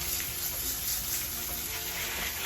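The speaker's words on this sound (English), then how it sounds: "Give it a quick rinse." Coins dug up while metal detecting are rinsed under a running tap, making a steady, even hiss of flowing water with no pauses.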